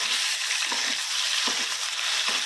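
Onion fries in a pan with turmeric and ginger-garlic paste, making a dense, loud, close sizzle with a few soft stirring thumps at regular intervals, and no talking.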